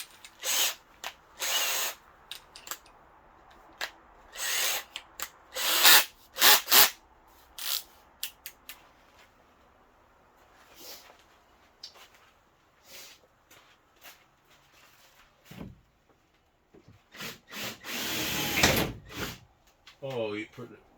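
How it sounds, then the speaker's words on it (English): A power drill bores a hole for a rear window install on a 2018-2022 Can-Am Maverick Trail Sport, whining in several short, loud bursts separated by quieter gaps with someone talking. "So all we need to do is drill a hole through there."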